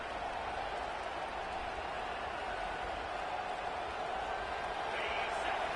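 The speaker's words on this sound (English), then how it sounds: "Decibels rising as the crowd gets behind this defense on third down" Steady roar of a stadium crowd cheering during a third-down defensive stand in the Madden football video game, a continuous broad wash of noise holding level throughout with slight swelling near the end.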